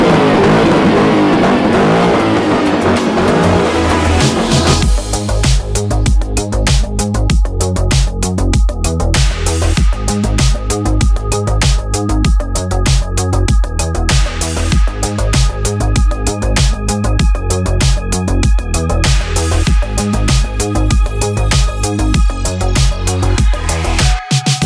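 A Toyota 86 engine at the Ultrace 2021 car show in Poland gives a loud, steady, rhythmic pulsing that runs almost the whole time after a short, muddier opening.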